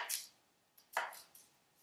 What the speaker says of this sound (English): What we want to do first is cut off the stem using our high cut.